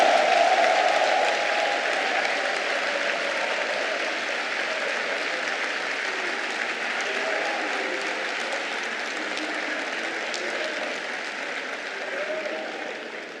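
Sustained crowd applause and cheering at an extraordinary congress of the PDCI-RDA political party, a dense continuous roar that holds steady for over ten seconds before easing slightly at the end.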